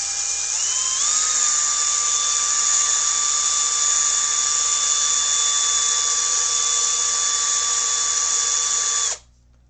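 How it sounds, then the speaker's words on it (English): Cordless drill spinning steel wool loaded with metal polish, a loud steady high-pitched whine that rises in pitch as it spins up, holds constant for about nine seconds, then cuts off abruptly. "if you have a cordless drill, you can chuck this in your drill"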